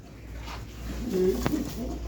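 A pigeon gives one brief, low coo near the middle, close and fairly quiet, with a sharp tap just after and no voices.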